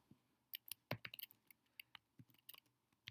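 A file name is typed on a computer keyboard in quiet, uneven bursts of crisp key clicks, some single and some in quick clusters, close and alone.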